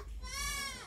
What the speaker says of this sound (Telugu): మేక పిల్లలు చూడండి ఫ్రెండ్స్.